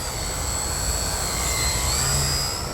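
A small radio-controlled aerobatic airplane of the Addiction X type flies and turns overhead, its motor giving a steady, fairly loud whine with whistling tones that rise and fall slightly as it maneuvers.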